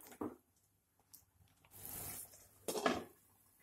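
Spoon scraping and rubbing against a pot while stirring urad vadi bhaji with soaked whole toor dal and salt, a few quiet clinks then longer scrapes, close but faint with no talking.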